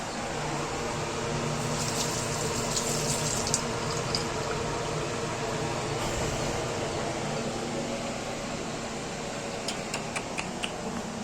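Water is poured steadily, making a continuous close hissing, gurgling flow over a low background hum, broken by a few faint clicks and taps near the end.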